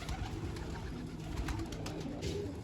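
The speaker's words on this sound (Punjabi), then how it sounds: "ਲਓ ਜੀ ਆ ਕਬੂਤਰ ਮੈਂ ਤਾੜ ਦਿੰਨੇ ਆ" Pigeons coo softly and repeatedly against a steady low rumble of background noise.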